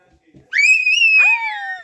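A child's high, sustained scream during an indoor game of hide-and-seek, rising sharply and holding for over a second before sliding down, loud and close, after a brief quiet start.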